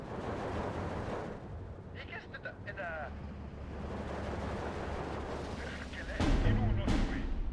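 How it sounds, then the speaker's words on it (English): Mortar and artillery fire in the Steel Division 2 war game, with booming low rumble, scattered distant blasts and a loud close impact near the end over a steady battlefield din. "I need to get that mortar strike down ASAP"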